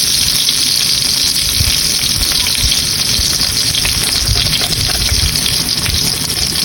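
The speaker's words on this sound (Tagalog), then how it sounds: "Tortillason na ako guys ang itlog." Eggs fry in hot oil for a Filipino-style omelette, giving a loud, dense, continuous sizzle and crackle that stays close and unbroken throughout.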